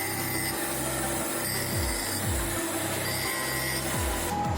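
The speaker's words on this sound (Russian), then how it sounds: "Прошлифовали кареточку." Lathe carriage being ground or scraped on a machine-tool rebuild, a steady broadband rasping hum with repeated sweeping strokes about every half second, close and continuous with no talk.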